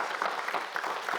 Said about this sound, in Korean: 박수로 다시 한번 환영해 주시고요